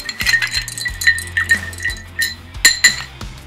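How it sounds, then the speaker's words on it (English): A large single ice cube clinking against the side of a glass as whiskey is stirred for an Old Fashioned cocktail, giving a steady run of close, bright, ringing taps and clinks with no talking. "Now we're going to stir till chilled."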